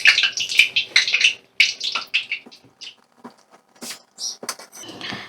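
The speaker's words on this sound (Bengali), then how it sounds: "একদিকটা হয়ে গেছে, আমি পিঠেটা উল্টে দিলাম" A malpua pancake fries in hot oil over a medium flame just after being flipped, giving irregular bursts of close sputtering crackle separated by short quieter gaps.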